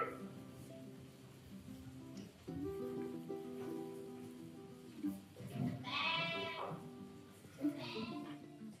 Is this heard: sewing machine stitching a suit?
no